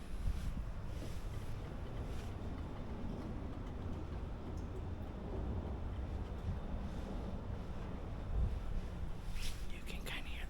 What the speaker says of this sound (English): You can kind of hear the ocean out there.